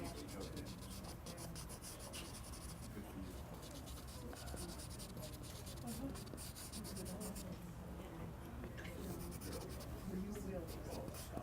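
A Derwent pastel pencil scratches and rubs steadily across paper during charcoal portrait drawing, a close, continuous dry rasp of short strokes, while people talk over it.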